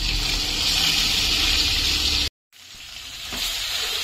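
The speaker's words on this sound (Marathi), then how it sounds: "कढईत तेल टाकून त्यात जिरे, मोहरी आणि हिंगाची छान फोडणी केलेली आहे आणि त्यात आता ही वांगी घालून छान आपण परतून" Stuffed brinjals sizzle in hot oil tempered with cumin, mustard seeds and asafoetida, a steady close hiss that cuts out briefly and then resumes and builds again, with no talking.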